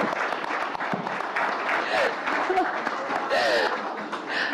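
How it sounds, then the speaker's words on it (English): An award ceremony audience applauds a scientist receiving an honour, steady clapping that fills the room with a few cheers and voices over it. "Huge round of applause for Professor Madhvi Lata."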